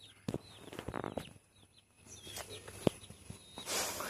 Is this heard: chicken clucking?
yes